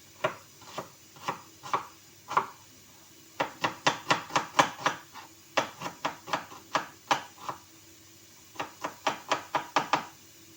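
Onion being chopped with a knife on a cutting board: bursts of quick, crisp knocks in uneven runs with short pauses, close and fairly quiet, with no talk.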